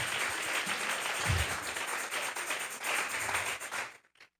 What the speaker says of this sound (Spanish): Vamos a regalar otra ofrenda de palmas al Dios de la gloria